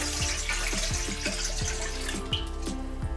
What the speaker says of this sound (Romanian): unde am să pun apa.